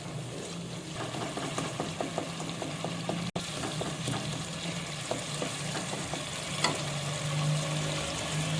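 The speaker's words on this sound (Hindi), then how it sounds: "इसको थोड़ा भूनेंगे, फिर इसमें हम अपनी मटर शामिल कर देंगे।" Masala frying in a pan before peas go in, a continuous even sizzle with light stirring taps throughout, close and steady.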